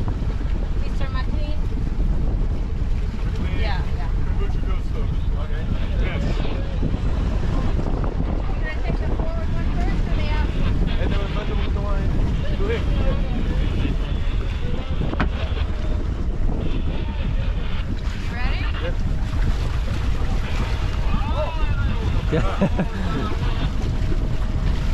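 A small sailboat transiting the Panama Canal sails with its engine in neutral, heard as constant loud wind buffeting and water rushing along the hull, with occasional faint voices in the background.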